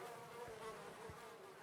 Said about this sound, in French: Oui, il y a des mouches là.